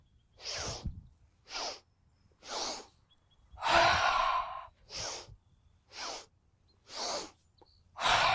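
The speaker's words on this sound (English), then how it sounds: "Inhale, inhale, inhale, out." Close, rhythmic breaths of a yoga breathing exercise for stress relief: a series of short, forceful nasal puffs with one longer, deeper exhale partway through.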